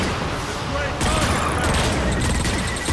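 Dense, loud gunfire and blasts in the video game Transformers Fall of Cybertron form a continuous barrage, with a heavier burst about a third of the way through and voices mixed underneath.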